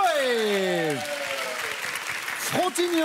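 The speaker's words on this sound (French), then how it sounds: "On vous applaudit, merci d'être là." A studio audience claps steadily on a French television dating show, a sustained wash of applause under and between the host's voice.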